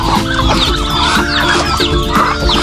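Several farm chickens cluck steadily and close by at feeding time, with the poultry flock around them also including ducks, turkeys and geese, a continuous busy chatter with no speech over it.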